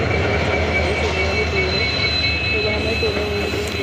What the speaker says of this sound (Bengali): এই যে ট্রেন মধ্যে ট্রেন চলেও এসেছে